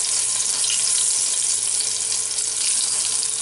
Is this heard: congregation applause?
no